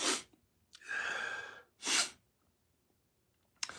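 A person blows their nose in two loud, forceful bursts, a long rasping blow followed by a shorter sharp one, with quiet gaps between and a brief snort starting at the end.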